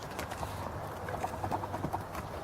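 A ridden horse's hooves clop in a brisk, steady rhythm during a riding lesson, muffled and mid-distance under a constant background wash.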